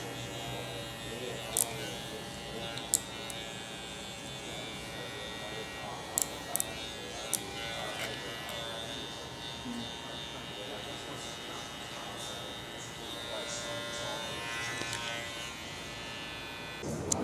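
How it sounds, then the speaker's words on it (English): An electric beard trimmer hums steadily and close throughout while a beard fade is cut, with a few faint clicks along the way and quiet talk partly under the buzz. "I'll hit the trimmer back here, just so I get that sharp line"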